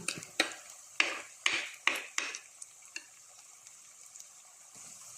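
Garlic, ginger and shallots for a fish curry are stirred in a pan, with a run of sharp scrapes and clinks in the first half and a faint sizzle beneath that fades to near quiet.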